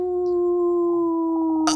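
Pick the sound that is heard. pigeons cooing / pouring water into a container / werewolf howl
werewolf howl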